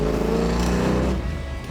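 Engine of a car converted to look like a 1970 Cuda revving hard as the carburetor secondaries open, a loud, dense roar held for about a second before easing off slightly.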